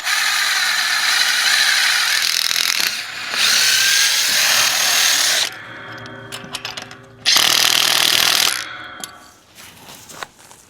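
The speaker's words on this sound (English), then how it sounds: "Now we're just drilling a hole through the gate here so that we can secure the other end." A power drill bores a hole through a metal gate while a solar gate opener is installed, running in loud sustained bursts with pauses, rattles and clicks between them.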